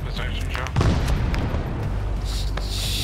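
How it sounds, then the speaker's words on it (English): A bomb explosion in Arma 3 during a Vietnam War scenario, a single deep boom rising out of rumbling ambience, with voices talking around it. "All right, the bomb's away."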